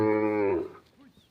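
A single close, loud moo from a cow at a cowshed, a long voiced call that fades out after about half a second into quiet.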